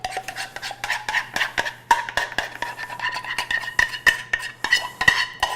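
A utensil scrapes chocolate mixture into a small bowl in quick, close strokes, with repeated scraping and light clinks against the dish and no talking.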